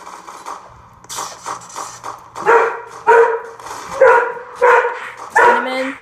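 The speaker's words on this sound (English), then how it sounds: "Hold on, I go open the door for my dog." A dog barks repeatedly in a steady series of sharp, fairly close barks, with softer yips and whimpers at the start.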